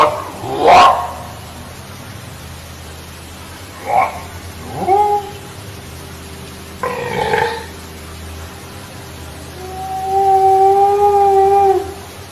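Purported Sasquatch howls recorded in 1983: a few short, rising wail-like calls spaced apart, then a longer sustained tonal howl toward the end, fairly distant over steady background hiss.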